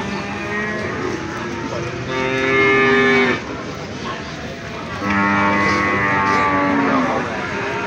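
Limousin bull at a cattle market in Prambanan, Klaten, giving two long, loud, close moos with a busy market murmur and voices underneath.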